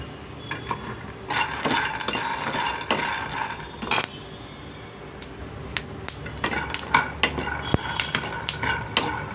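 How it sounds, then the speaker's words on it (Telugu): Peanuts roast in a pan as a spatula stirs and scrapes them, making a busy run of close, irregular clattering strokes and knocks, with a short lull partway through. "అలాగే ఇదిగోండి పల్లీలు వేయించుకుందాం"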